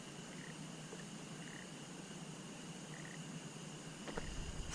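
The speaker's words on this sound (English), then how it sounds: "Frog?" At night in Big Woods Cemetery in Vinton, Louisiana, a frog croaks in a few short, faint bursts set against a steady, dense wash of insect and cricket noise, with no voices.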